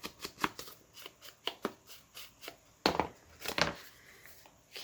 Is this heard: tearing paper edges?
yes